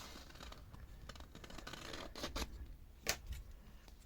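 Scissors snip through paper while a small mushroom shape is fussy-cut for a craft project: soft scratchy rustling builds to one sharp, close snip near the end, then a little more rustle.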